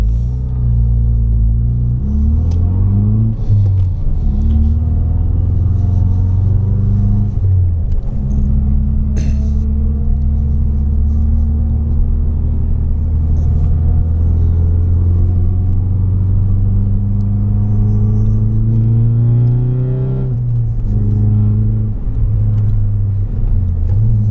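A car drives on the Silesiaring race track, a steady loud engine rumble heard from inside, rising and falling with gear changes and acceleration throughout.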